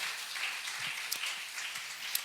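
A church congregation applauds for a couple of seconds, a steady wash of many hands clapping with no voices over it and a few sharper claps standing out near the end.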